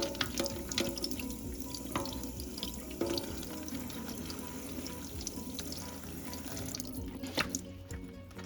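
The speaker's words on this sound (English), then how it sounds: "Next, we're gonna wash and prep our vegetables." Vegetables washed under a running kitchen faucet filling a sink, a continuous close hiss of flowing water with occasional splashes and drips, no talking.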